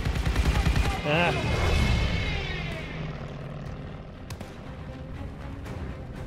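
In the war video game Call of Duty: Vanguard, an aircraft roars overhead amid bursts of gunfire. The loud engine drone swells and then fades into the distance while scattered shots and impacts continue.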